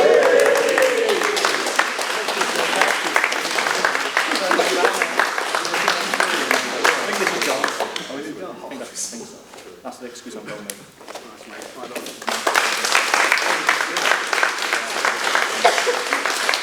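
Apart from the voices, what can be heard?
audience applause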